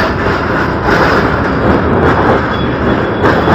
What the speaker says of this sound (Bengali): সো এই আমাদের ট্রেনটি এখন খিদিরপুর স্টেশন ছাড়লো, স্টেশন থেকে এই ছাড়লো।